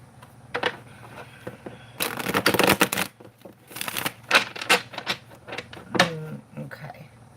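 Tarot cards are shuffled by hand in bursts of rapid papery riffling and flicking, with louder flurries mid-stretch and a few separate taps, while someone's voice and breathing sound intermittently close to the microphone.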